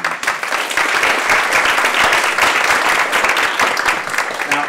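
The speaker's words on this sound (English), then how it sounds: "So give yourselves a round of applause." Loud, sustained applause from a large audience, dense clapping that continues steadily without pause.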